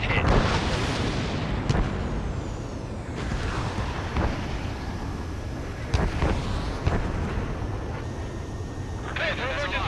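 Enemy jet struck and exploding in Ace Combat 7, a heavy roaring blast over constant wind-like engine rush, followed by further thuds and cracks in a dense aerial combat soundscape.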